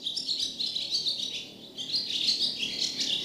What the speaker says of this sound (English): The family noticed the bird with the crooked leg sitting on the clothesline and singing to them.